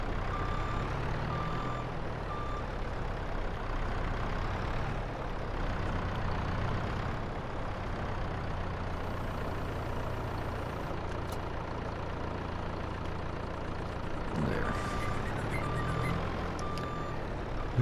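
Logging lorry reversing in the video game Farming Simulator 22, steady intermittent reverse beeps over a low idling diesel rumble, with a brief hiss like an air brake late on.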